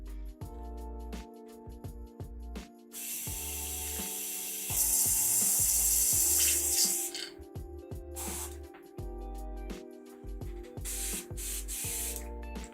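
An airbrush sprays paint onto a Warhammer 40k miniature in long hissing bursts, with clicks and mechanical rattles between them as the trigger and bottle are handled.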